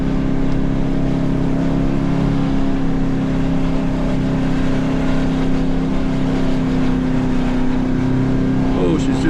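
A four-wheel drive car drives on a sandy beach, its engine holding a loud, steady drone with sustained revving throughout. A faint rising whine rises near the end.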